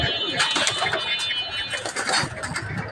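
Rooftop pigeons coo softly against a busy outdoor background of fluttering and general noise, with the cooing continuing through the short stretch.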